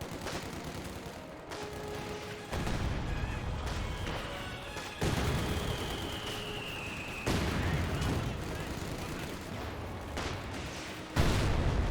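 In a Company of Heroes 2 battle, a mortar emplacement is destroyed amid steady battlefield gunfire and booming impacts. Loud crashes punctuate the clip, and a whistling shell sweeps through the middle.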